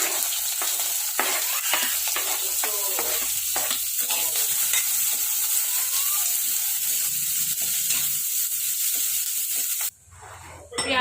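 Onions frying in a pan, a loud continuous sizzle with frequent scraping strokes of stirring, then cutting off abruptly near the end.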